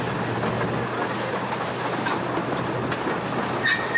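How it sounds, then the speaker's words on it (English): A narrow gauge railroad train, converted to standard gauge, rumbles steadily along the rails through woods at about 12 miles per hour, with a constant rolling clatter and a brief high wheel squeal near the end. "That's what began as a narrow gauge railroad."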